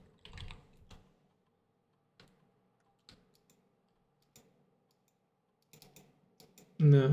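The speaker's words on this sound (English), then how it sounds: "Oh, it was the sound of the computer clicking." An in-game computer in Blue Prince clicks as it boots a menu from disk, a string of sparse, dry ticks spaced about a second apart in near silence, ending with a sudden louder burst.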